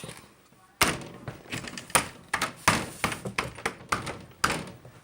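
A door bangs shut several times in a row: loud, close, sharp thuds and knocks in an irregular burst, with a dog nearby.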